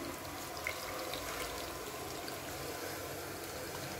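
Dissolved tamarind water pours steadily into a pan of brinjal curry, a continuous watery splashing stream that runs unbroken for several seconds.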